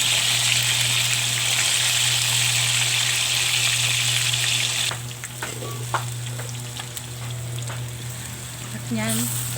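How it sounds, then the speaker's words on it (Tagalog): Fish frying in a pan, hot oil sizzling loudly and continuously, then dropping to a softer crackle with scattered pops and light clatter, while a voice speaks faintly over it. "patapos ng ating pritong isda"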